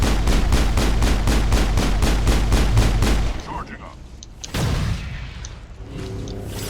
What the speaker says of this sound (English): You keep shooting the wall though